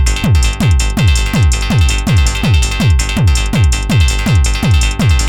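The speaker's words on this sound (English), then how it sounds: "So here's some ring modulated sound from my Nord drum." Ring-modulated tone from a Nord drum repeats a monotonous single-note melody over a steady techno beat, with regular punchy low thumps about twice a second, loud and continuous with no talking.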